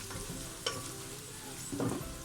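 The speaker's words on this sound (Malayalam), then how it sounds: "നന്നായിട്ട് അങ്ങ് വഴറ്റുക" Onions sautéing in ghee for Malabar ghee rice, a faint, steady sizzle with one brief clink and a soft scraping stir near the end.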